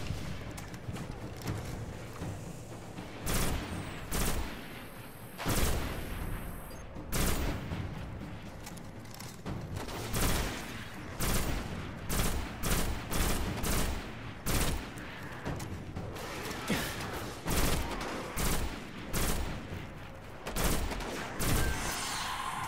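Rapid bursts of gunfire from the shooter video game Destiny, loud repeated volleys and single shots with brief pauses between them, dense and continuous across the stretch with game effects underneath.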